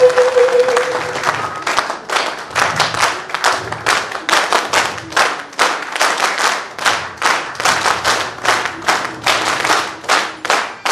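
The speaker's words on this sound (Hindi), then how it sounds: "एक बार जबरदस्त तारी हमारे सर के लिए" Sustained applause from an audience at a 2018 BGM LDP leadership program event, dense steady clapping with rhythmic swells throughout, loud and close, with no talking.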